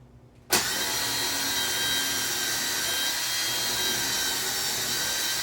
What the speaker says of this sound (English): pilot hole is drilled